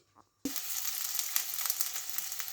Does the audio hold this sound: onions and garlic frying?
yes